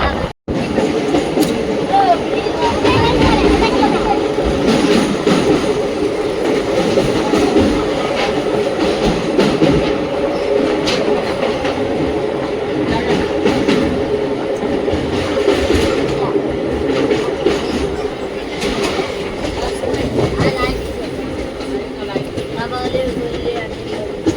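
A passenger train on the Bengaluru to Tirupati line rumbles and rattles loudly and steadily for the whole stretch, with wheel clatter and a constant low drone heard from inside the carriage.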